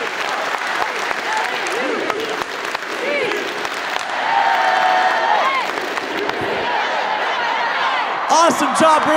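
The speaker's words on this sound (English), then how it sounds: "Their first time doing an A clap." Audience volunteers at a university spring sing show perform a group clap, a dense wash of clapping, cheering and crowd voices filling the hall, with a brief louder burst near the end.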